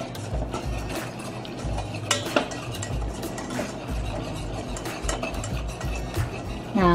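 White sauce stirred steadily in a pan, a utensil scraping and clinking against the metal in continuous close strokes, with a faint sizzle underneath and no talking.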